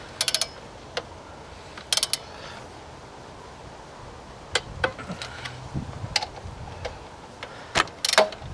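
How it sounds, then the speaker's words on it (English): Ratchet clicks in several short bursts while bolting down the alternator on a 2005 Ford 6.0L Powerstroke diesel, close and fairly quiet against low shop background noise. "we'll go ahead and bolt this down."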